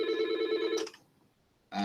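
A telephone rings in a classroom, one long electronic ring of nearly a second, then a short silence before the next ring begins; it is loud and close.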